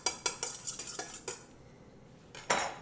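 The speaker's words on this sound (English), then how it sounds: "Stir it around, stir it around." Butter is stirred in a pan with a metal utensil, giving a run of sharp scraping clinks in quick rhythm, then a short quiet pause and one final loud scrape, close and clear.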